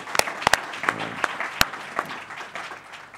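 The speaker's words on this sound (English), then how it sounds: "We want to give you a round of applause." Light applause from a conference audience of economists, sparse individual claps standing out over a soft patter that fades within a few seconds.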